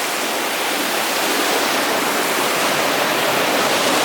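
A river rushes through Reach Falls in Portland, Jamaica, as a loud, steady, broadband roar of tumbling water that fills the whole stretch without pause or change.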